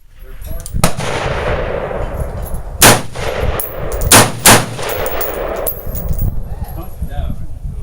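AR-15 rifle shots outdoors, several loud sharp cracks spaced a second or more apart, with a couple of near-paired shots over a noisy background.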